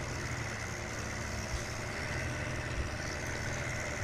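A tractor engine idles steadily in Farming Simulator 17, a constant low mechanical rumble with a hissing, broadband drone that holds at an even level throughout, with no speech over it.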